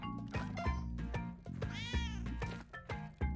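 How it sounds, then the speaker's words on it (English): A cat meows repeatedly and clearly, with drawn-out, wavering cries and a yowling caterwaul, close and loud over a background of rhythmic game sounds. "I hear the kitty."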